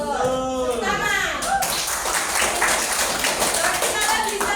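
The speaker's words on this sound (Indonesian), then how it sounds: "Tepuk tangan." Students in a vocational high school classroom clap their hands together, a busy burst of clapping that starts after a moment of voices and carries on with children's chatter mixed in.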